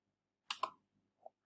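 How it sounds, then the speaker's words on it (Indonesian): A few keys on a computer keyboard click while typing a formula into an Excel spreadsheet: two quick close taps followed by a fainter single tap in a quiet room. "Bisa juga pakai cara mengetik ya"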